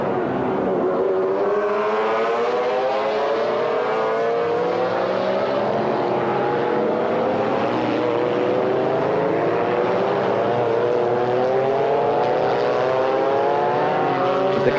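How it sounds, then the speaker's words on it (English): GT race cars, among them McLarens and a Ferrari F40, accelerate at Paul Ricard toward the Mistral straight, engine notes climbing steadily through the gears in a loud, continuous layered whine with several cars overlapping. "The cars accelerate up onto the long Mistral straight."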